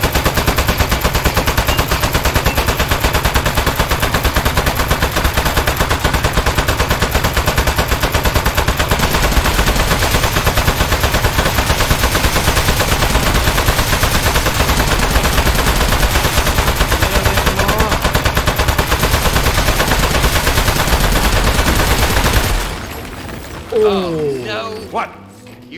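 Sustained automatic gunfire in the video game Aperture Desk Job, a loud, dense, unbroken barrage for over twenty seconds that cuts off near the end, leaving brief electronic sounds and a voice.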